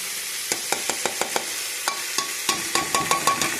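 Ginger garlic paste sizzles in hot oil with frying potatoes, a steady close crackle punctuated by regular sharp scrapes and taps of a spoon stirring the pan.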